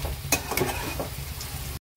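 Steady sizzling of chicken frying in spice paste in a pan, with a few scraping stirs of a spoon, close up and fairly quiet, then a sudden cut to silence.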